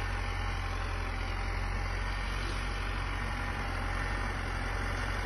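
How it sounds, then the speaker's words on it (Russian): A tractor engine idles steadily and close by on a garden plot being prepared for tilling, a continuous low rumbling drone with no breaks throughout. "Трактор приехал."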